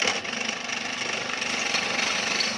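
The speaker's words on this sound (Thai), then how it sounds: "เราต้องทำการเจาะลงไปก่อนนะครับ" A power drill bores into a motorcycle engine case during a kick-start to electric-start conversion, giving a continuous, steady high whine with grinding texture, close and alone.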